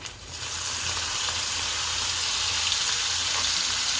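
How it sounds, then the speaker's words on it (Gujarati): Asafoetida, garlic and crushed chillies sizzling in hot oil, a steady close broadband frying hiss that starts at once and holds evenly throughout, with no voices. "આપણું તેલ ગરમ થઈ ગયું છે, આ હિંગ નાખશું, આ લસણ નાખશું, અને આ મરચાં જે ખાંડેલ હતા એ"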